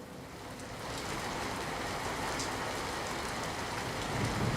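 Heavy monsoon downpour over villages in Amreli district, Gujarat, pouring as a dense, steady hiss that swells slightly after the first second and holds without a break.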